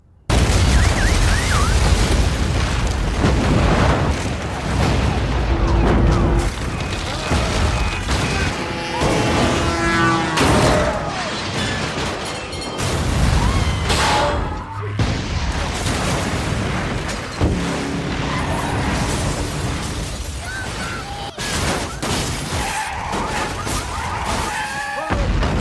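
A disaster-movie LA earthquake scene: dense, sustained rumbling with repeated booms, crashes and bursts of collapsing debris, loud and chaotic throughout.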